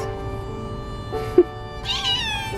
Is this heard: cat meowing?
yes